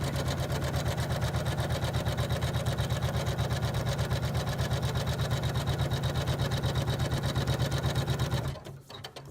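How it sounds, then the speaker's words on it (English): An embroidery machine set to 500 stitches a minute stitches out the outer border of a quilt block, a loud, steady rapid needle chatter that runs nearly the whole time before stopping abruptly near the end. "The speed on this machine is set to 500 stitches a minute."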